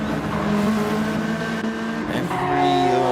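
Nissan GT-R GT500 race car engine in a racing video game, a loud continuous engine drone with shifting pitch and a climbing rev toward the end, a commentator's voice faintly underneath.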